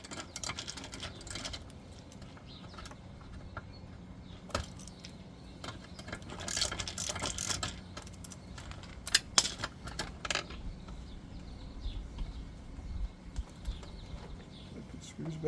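Screws go back into a Maytag dishwasher control panel during a repair, heard as faint small metallic clicks and rattles under ongoing talk.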